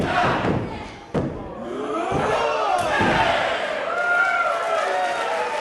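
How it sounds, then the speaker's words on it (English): Wrestling arena crowd roaring and chanting in rhythm during a ringside beatdown on the ring apron, with a few sharp thuds; loud, dense crowd noise throughout. "the crowd counting along"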